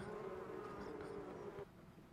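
Bees buzzing in the golf video game What the Golf: a steady, low droning hum that holds for over a second and a half then cuts off, quiet under a broad background hiss.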